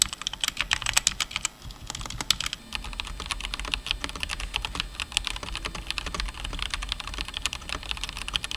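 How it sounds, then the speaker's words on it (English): Steady, rapid typing on a modded Red Dragon Fizz mechanical keyboard fitted with Gateron Red switches, dense clicky keystrokes close up with no talking. "then my modded Red Dragon Fizz with Gateron Reds"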